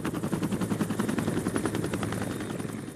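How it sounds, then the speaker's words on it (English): A research helicopter's rhythmic rotor thudding overhead in an Alpine valley of the Carnic Alps, a steady rapid rattle that stays fairly loud and constant throughout. "The rattle of the research helicopter has accompanied the daily life of those in the valley for weeks."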